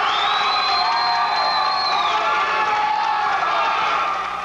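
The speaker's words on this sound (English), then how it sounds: "You hear it, the crowd goes wild." A high school basketball crowd at a 1996 Palmerton game erupts in loud, sustained cheering, whoops and shrill yells that fill the gym and stay at full intensity throughout.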